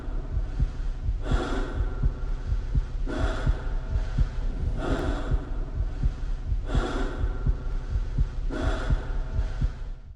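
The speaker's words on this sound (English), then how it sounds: "Gordon's breathing is heavy, desperate, and accompanied by a heartbeat, his own heartbeat pounding in his head" Heavy, desperate breathing from Gordon Freeman in the Half-Life video game, with slow labored breaths rising and falling over a pounding heartbeat that throbs steadily and close underneath.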